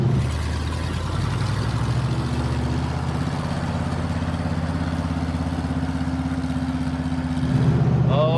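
A monster truck engine, restarted after a year idle, rumbles low and steady at close range as the truck rolls in first gear, with a slight swell in engine noise near the end.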